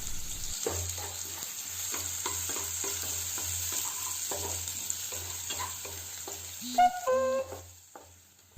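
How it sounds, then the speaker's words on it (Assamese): Chopped onions and cumin seeds sizzle in hot sunflower oil, a steady frying hiss with repeated stirring scrapes and clinks, ending in a few louder knocks near the close; no one speaks. "তেলখিনি গৰম হোৱাৰ পাছত দুটামান জিৰা গুটি দি কাটি ৰখা পিঁয়াজখিনি দি দিলোঁ।"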